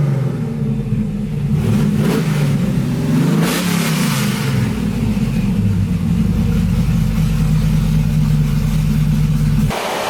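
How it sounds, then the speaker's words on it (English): Muscle truck engine with its exhaust cutouts open, revving loudly and steadily up close with a deep, rough rumble for about ten seconds before cutting off abruptly near the end. "open the cutouts and rev that thing"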